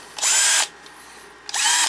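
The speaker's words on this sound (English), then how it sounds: "I put it on drill, and I put it on low." A 12-volt Porter-Cable cordless drill set to low speed whirs in two loud, even bursts, the first about half a second long, a quiet pause, then it starts again near the end, with no one talking.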